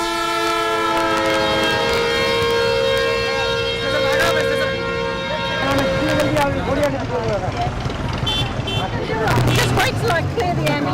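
An ambulance siren wails steadily through a crowded, busy Indian street, loud and close among dense traffic noise and horns, with people talking over it.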